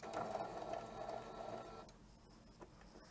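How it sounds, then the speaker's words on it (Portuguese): A domestic sewing machine stitches fabric for a jewelry holder, its steady motor hum running close and continuous for a couple of seconds, then easing off into quieter handling noises. "eu vou continuar costurando"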